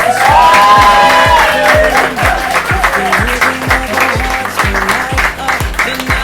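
Bar crowd at an open mic night in Limerick clapping and cheering for a featured reader, loud applause and whoops over a pounding musical beat with sung melody.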